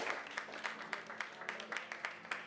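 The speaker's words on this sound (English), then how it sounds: "Give yourselves a big round of applause" Sparse applause from a small audience at a marionette show, a few hands clapping in an uneven patter with no voices over it.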